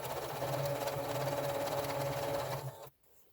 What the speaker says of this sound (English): I'm going to sew right along that edge.